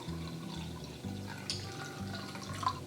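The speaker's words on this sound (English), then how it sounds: "we're going to go in with 1 1/4 cup of coconut water" Coconut water from a Tetra pack is poured into a bowl of rice cake batter, a faint, steady liquid trickle with soft splashes, quiet and close, with no voices.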